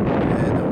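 Strong wind gusting to 35–40 mph buffets the microphone with a loud, continuous low roar in an Arizona forest fire area.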